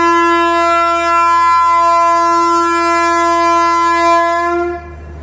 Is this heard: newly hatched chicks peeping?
no